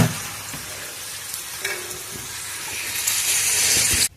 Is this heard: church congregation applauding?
no